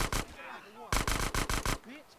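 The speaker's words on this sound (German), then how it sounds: "Ich versuche mit der Uzi zu schiessen" Bursts of Uzi submachine gun fire in GTA San Andreas, two loud rapid volleys of sharp cracks separated by a pause, with game sounds between them and no talking.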